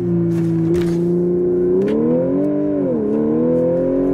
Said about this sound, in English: The supercharger has a sharp,